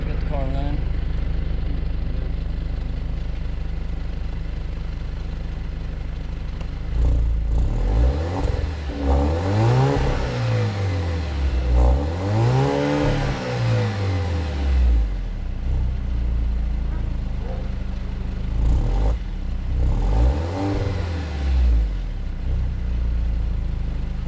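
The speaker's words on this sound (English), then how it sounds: "we'll give it a start and a few revs" A turbocharged 2.0-litre Alfa Romeo Giulia Ti Sport Q2 engine with factory exhaust idles, then revs up several times in rising and falling sweeps, loud and close, with pauses at idle between revs.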